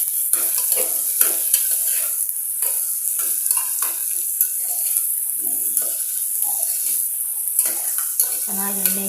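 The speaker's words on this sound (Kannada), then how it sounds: "ಕ್ಯಾರೆಟನ್ನು ಹಾಕ್ತಾ ಇದ್ದೀನಿ. ಇದು ಸಹ ಒಂದು ನಿಮಿಷ ಫ್ರೈ ಮಾಡೋಣ." Carrots frying in oil as a spatula stirs them, heard up close as a constant sizzle with repeated scraping strokes throughout.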